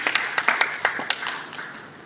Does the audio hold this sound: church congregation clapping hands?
yes